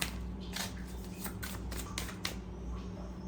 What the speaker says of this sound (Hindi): Okay, I have to shuffle again.